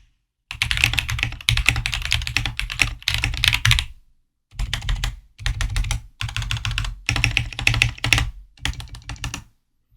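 Bursts of brisk typing on a Devastating TKL mechanical keyboard, dense key clacks in several runs separated by short pauses, close and clear with no talking.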